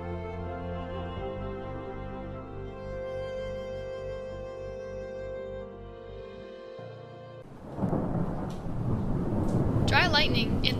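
Thunder crashes and rumbles from a monsoon thunderstorm, loud and broad in the final few seconds after a long sustained musical tone fades away.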